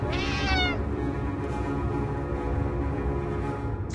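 A cat gives one clear, fairly close meow at the start in Friday the 13th: Killer Puzzle, followed by a low game ambience.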